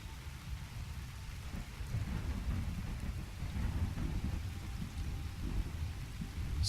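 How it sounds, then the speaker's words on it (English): Steady rain and low rumbling thunder from the video game Skyrim fill the background continuously, a dense even wash of rainfall with deep rolling rumble, no voices. "Seems to have rained for ages."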